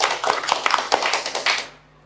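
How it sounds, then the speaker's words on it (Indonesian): A burst of hand clapping, a group of quick, sharp claps in irregular rhythm, fairly close and moderate in volume, dying away abruptly after about a second and a half. "Tepuk tangan."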